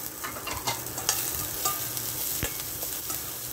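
White onions sauté in oil in a pan, giving a soft, even sizzle with a few sharp stirring clicks and scrapes close by.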